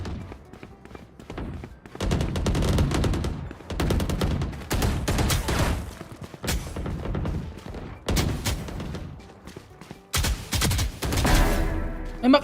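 Rapid bursts of video game gunfire from a shooter match, in repeated loud volleys of shots separated by brief pauses, with a final burst near the end.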